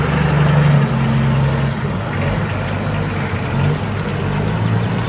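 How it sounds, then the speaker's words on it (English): A Perkins diesel engine in a 2006 CAT DP40KL1 9,000 lb pneumatic-tire forklift runs smoothly, a close, steady low rumble with slight shifts in pitch and no talk. "Smooth running Perkins diesel engine."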